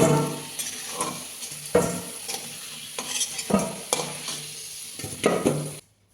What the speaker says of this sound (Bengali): আলু ভাজা তেলের মধ্যে